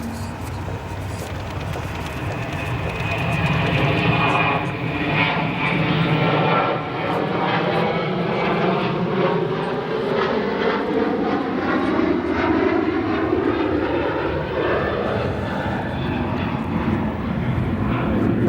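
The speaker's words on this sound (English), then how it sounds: "we'll look at a departing 737" A Boeing 737 jet departing O'Hare airport roars loudly and steadily, its engine tone sweeping and shifting as it climbs away, with a voice talking over it in places.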